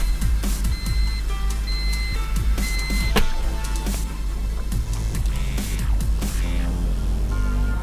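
A Honda Civic EK with a D16Y7 engine on a chipped P28 ECU idles erratically, a steady low engine drone with faint tonal whines and irregular ticking above it. The idle surges and hunts throughout, with no one speaking.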